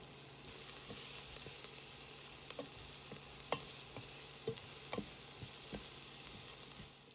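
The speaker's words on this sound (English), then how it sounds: "I added another tablespoon of butter and let that melt" Butter melting in a pot ahead of a roux for chicken stew gives a soft, steady sizzle with faint crackles and occasional light ticks, close by and with no voices.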